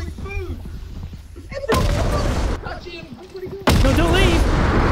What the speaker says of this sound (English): it threw a bomb!